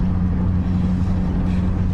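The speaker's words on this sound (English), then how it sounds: "So, what do you think of my little old English sports car?" A steady, low engine rumble from a small old English sports car, with strong bass tones holding constant and loud throughout, no voices.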